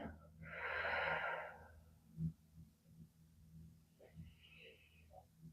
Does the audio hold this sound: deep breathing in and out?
yes